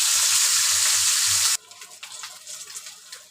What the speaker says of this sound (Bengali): মাছ দিয়ে দিলাম ভাজার জন্য